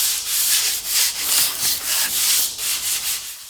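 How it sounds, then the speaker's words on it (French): Rhythmic back-and-forth hand sanding with sandpaper on a plastered wall surface, a steady series of hissing strokes close up with no voices. "tu peux devoir encore poncer la surface. Il faut le faire à la main"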